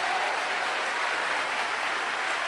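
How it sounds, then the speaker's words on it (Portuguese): Dense, sustained applause from a large congregation at a church worship service, a steady wash of clapping with no pauses. "Então aplaude com vontade."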